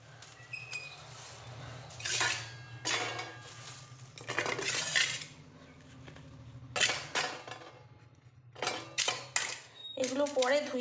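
Kitchen utensils, pots and dishes clatter and clink in repeated bursts as they are handled and tidied nearby, with a voice speaking over the clatter at times.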